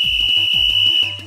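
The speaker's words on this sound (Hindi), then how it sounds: "ये सीटी की आवाज है।" A shrill, steady whistle tone held for about a second, loud and unbroken, fading slightly at the end.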